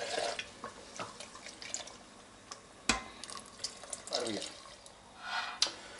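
About a litre of water is poured into a hot cooking pot that already holds sauce, giving a faint splashing, sizzling pour with scattered drips and clinks, heard in a quiet kitchen.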